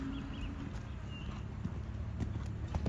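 Horse hooves clip-clopping steadily through a cantering schoolwork session in an arena, a rhythmic mid-loud beat that continues throughout with no voices heard.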